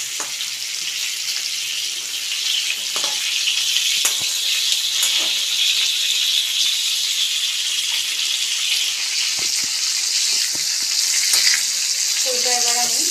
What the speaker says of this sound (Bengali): পটলগুলো নেড়ে চেড়ে নেবো।